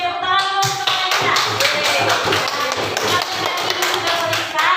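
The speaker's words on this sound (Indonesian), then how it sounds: "tepuk tangan untuk mereka" Applause for students after their classroom presentation, steady close clapping from a group of hands filling the whole moment, with no talk over it.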